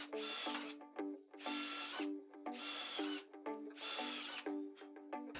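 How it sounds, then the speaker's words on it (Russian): A power drill bores a 6 mm hole through a door hinge clamped in a vise, in four evenly spaced bursts of whining drilling, each separated by short pauses, close and clear with no talk. "Для удобства зажимаю ее в тиски и рассверливаю отверстие на 6 мм."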